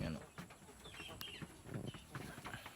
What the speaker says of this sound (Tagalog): 39 yung aking mga broiler chicken.